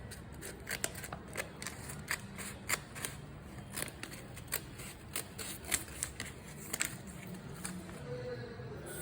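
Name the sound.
scissors cutting paper rectangles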